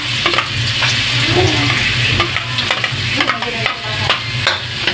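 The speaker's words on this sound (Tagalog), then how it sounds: "Lalagay na po niya ang bawang." Minced garlic sautéing in a hot pan, a steady sizzle broken by repeated scraping stir strokes of a utensil against the pan, close and fairly loud throughout with no talking.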